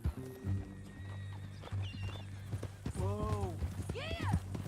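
A horse in Red Dead Redemption 2 gives two rising whinnies over steady clip-clopping hooves, with people talking throughout.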